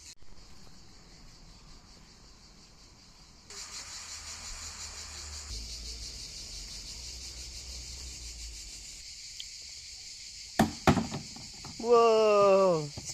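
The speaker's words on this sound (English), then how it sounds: "the sound of cicadas is almost drowning us out" A steady, shrill buzzing drone of cicadas in Le Bugue, Dordogne, France, carries throughout, with a few sharp knocks and a brief whining tone toward the end.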